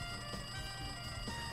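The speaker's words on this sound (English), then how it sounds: "Looks like that phone is ringing." Steady electronic ringing from a phone in the video game Danganronpa 2: Goodbye Despair, a brief stretch of constant tone at an even, moderate level with no talking.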